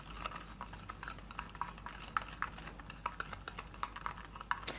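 A sugar scrub of coconut oil and Sucragel being stirred by hand in a small container, with close, steady scraping and light clinking taps of the utensil repeating throughout, no voices.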